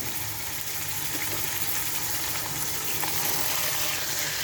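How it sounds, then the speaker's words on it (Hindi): Chicken frying in a pan as part of a biryani, a steady close sizzle and crackle of oil that stays level and continuous with no talking. "चिकन फ्राई कर लेती हूँ पहले।"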